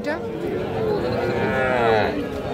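A single drawn-out moo from a heifer calf at a cattle market, close and fairly loud, rising and falling over a couple of seconds amid faint background chatter.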